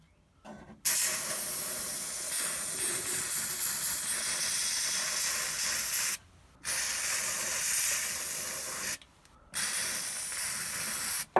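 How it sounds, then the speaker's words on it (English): A steady, loud aerosol hiss of wax oil sprayed into a car chassis runs in long bursts, stopping briefly twice before resuming, with no talking. "I'm going to go ahead, spray a load of wax oil in there"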